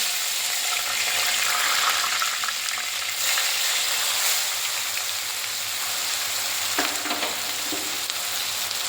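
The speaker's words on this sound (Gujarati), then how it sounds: "થોડી શેકાવા દઉં થોડી શેકાયા પછી ટામેટાની પેસ્ટ નાખીશું" Spice paste for sev usal frying in a pan, a steady, dense sizzle that holds evenly for several seconds, close and fairly loud, with a brief scrape near the end.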